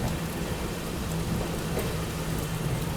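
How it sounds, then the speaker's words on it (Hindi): Heavy rain pours steadily at a railway station in Firozabad, a dense continuous hiss of drops close by with a low rumble underneath, unbroken throughout and with no voices. "ऊपर से इतनी बढ़िया बारिश हो रही है"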